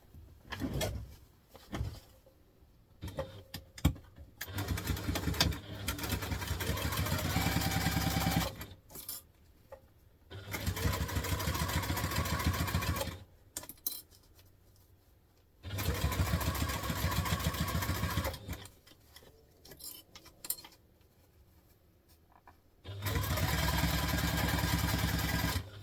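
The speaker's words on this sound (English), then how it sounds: "We're going to stitch from where we" A sewing machine stitches a hobo bag in several long runs of steady whirring, separated by quiet pauses with faint handling clicks, moderately loud and close.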